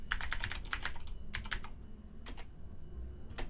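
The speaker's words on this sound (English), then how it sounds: "And then I have to put a password in." Keys clatter on a computer keyboard as a password is typed: a quick burst of close, crisp clicks, a short pause, then a few more scattered taps, with no talking.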